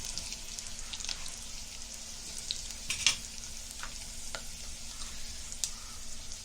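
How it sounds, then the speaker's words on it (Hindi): Curry leaves sizzle in hot oil for tempering in a Kokani kitchen, a steady crackling hiss with scattered pops and some stirring, moderately quiet and with no voices. "अभी हम करी पत्ता डालेंगे।"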